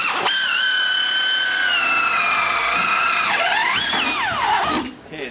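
A high-pitched drill whines steadily through a lubricated metal motor extrusion, its tone holding then sliding down and up near the end before cutting off; no talking.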